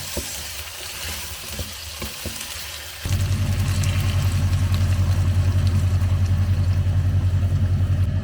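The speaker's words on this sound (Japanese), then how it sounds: "じゃがいもと玉ねぎを入れて 炒めます。" Potatoes and onions stir-fry in a pan, a soft sizzle and stirring that turns into a louder, steady frying sound layered over a deep constant hum after about three seconds.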